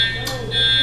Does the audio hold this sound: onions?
no